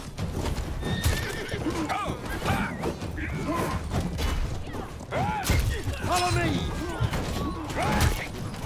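Horses in the medieval battle game Conqueror's Blade whinny repeatedly over clattering hooves and clanking battle mechanisms, with several distinct neighs rising and falling across the clip.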